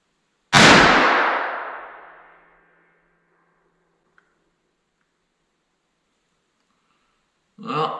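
Savage Arms Model 2 rifle in 22-250 fired once outdoors, a sharp loud crack with a long decaying echo, followed by a brief voice at the end.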